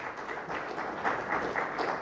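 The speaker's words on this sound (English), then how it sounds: "Yeah, another round of applause to our presenters." Applause from an audience for presenters at a Uganda NUWOSO event, steady diffuse clapping throughout at moderate level.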